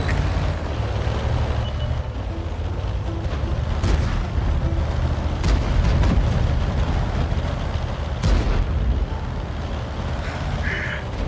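Manticore light tank cannon in World of Tanks firing high-explosive shells, sharp booms standing out over a dense, rumbling battle soundscape with continuous low engine drone.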